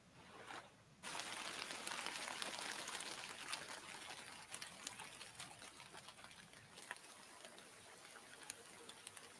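Steady rain ambience from a focus app, a dense even hiss of falling rain with scattered droplet ticks, continuous and fairly soft throughout with no voices.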